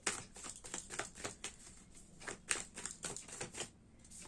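Tarot cards being shuffled and drawn from a deck, a run of quick, soft, close papery clicks and riffles in an uneven rhythm, quiet and without talk.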